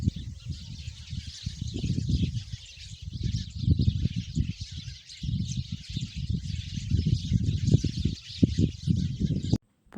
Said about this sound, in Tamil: சிட்டுக்குருவி